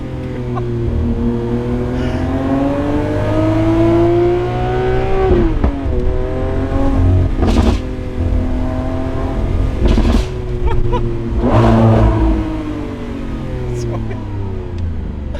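A Lamborghini Aventador SVJ Roadster engine revs loudly and accelerates, its tone rising through several gear changes. The engine is heard close from inside the car and runs continuously under the driver's talk.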